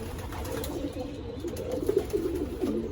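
Racing pigeons in a Texas loft give soft, repeated low coos over a faint background hum, with no one talking.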